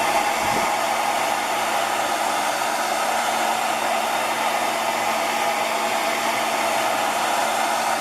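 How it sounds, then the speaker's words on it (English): A blow dryer on its cool setting, drying a crack in a quartz countertop, runs steadily the whole time, a loud, even airy whoosh close by with no pauses or voices. "use the blow dryer on cool and try to blow that crack dry"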